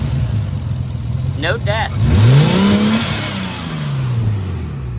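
A car engine with a newly installed intercooler idles high and then revs sharply once, its pitch sweeping up and back down. A short spoken phrase comes just before the rev, over a steady idle rumble.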